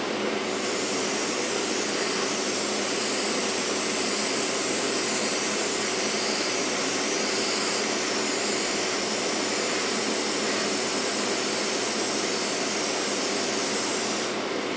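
Spray primer laid down as a second coat on a scale model, one continuous close aerosol hiss lasting about fourteen seconds before cutting off, no talking.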